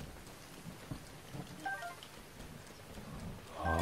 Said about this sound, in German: Oh, Regen ist super.